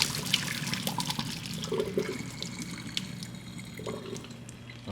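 Hot water from cooked Pad Thai noodles splashes and gurgles through a colander into a sink, a steady, fairly quiet pour that tapers off slightly near the end.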